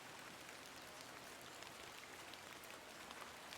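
Steady rain falls in the Hob's Barrow video game, a soft, even hiss of drops on surfaces that stays constant and fairly quiet throughout, with no voices over it.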